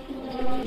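A fancy Mili Racer pigeon gives a brief, close, low coo that swells slightly near its end.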